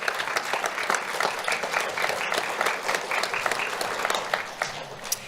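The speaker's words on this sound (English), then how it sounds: "How about a round of applause for LCEC and Alliance Financial?" A crowd at a student awards event applauds LCEC and Alliance Financial, a loud, sustained wash of many clapping hands that holds steady from start to finish with no voices.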